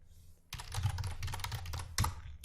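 Rapid typing on a computer keyboard during a JavaScript coding tutorial, a close, brisk run of clicking keystrokes with a couple of louder key strikes, no speech.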